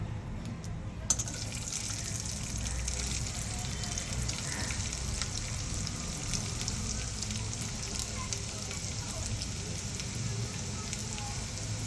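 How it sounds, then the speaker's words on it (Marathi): Jowar and dudhi vadis drop into a pan of hot oil and popped mustard seeds, raising a loud, continuous hiss that sounds almost like rain and runs unbroken to the end. "आता आपण यावर या वड्या घालूया."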